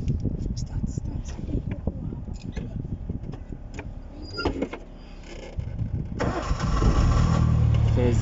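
A car engine cranks with rapid stuttering clicks, catches and settles into a steady idle that grows louder toward the end, close by with a voice speaking briefly over it.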